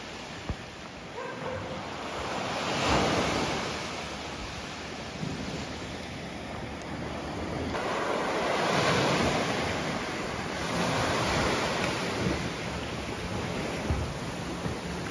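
Waves wash steadily onto the soft-sand beach at Las Animas in Puerto Vallarta, a continuous loud surf roar that swells and eases, with some wind buffeting the microphone.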